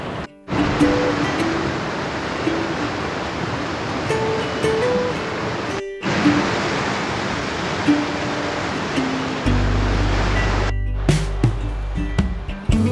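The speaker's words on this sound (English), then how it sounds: "I did need to cross this river, but it's looking a bit dangerous" Rushing river water outdoors, a loud continuous broadband roar that holds steady throughout, briefly cut off twice, with a low hum entering near the end.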